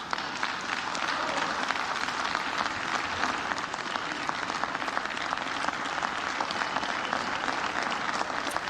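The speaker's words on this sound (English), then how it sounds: "So there's some Republicans clapping" Republican members applaud inside the House chamber at a Speaker of the House nomination, a steady, dense wash of many hands clapping that holds evenly throughout, somewhat distant and reverberant.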